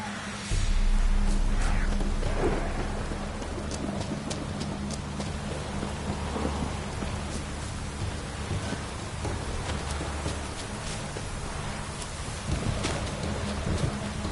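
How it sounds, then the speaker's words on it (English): Steady rain with rolling thunder and wind in The Witcher 3, a continuous low rumble beneath hissing downpour that swells near the start and again toward the end, with no talk over it. "Storm, damn it."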